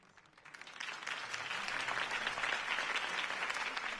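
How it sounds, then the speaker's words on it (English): Crowd applause in a Batman video game cutscene following a campaign speech, swelling quickly from quiet into dense, steady clapping that holds strong to the end. "If only Mr. Wayne, my campaign's largest backer, could have heard that applause"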